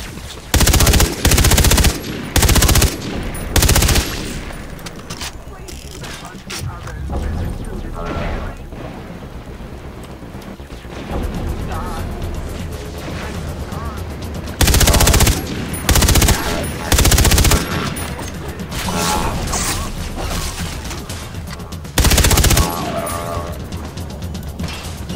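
Machine gun fire in the retro-futuristic shooter Far Cry 3: Blood Dragon: loud, close bursts of rapid automatic shots separated by lulls of ambient action noise, with someone talking in between.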